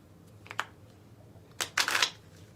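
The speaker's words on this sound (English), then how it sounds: "Shuffle the cards for me, please." A deck of playing cards is shuffled by hand in two quick riffling bursts, a short one and a longer, louder one, close and crisp with no talk.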